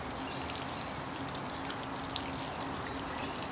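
Water pours steadily from a watering can into a potted perennial until it puddles, a continuous soft splashing trickle with no break, moderately near and without speech.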